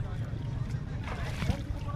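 A low engine drone and wind buffeting mingle with splashing water as a boat moves along, with voices talking over it.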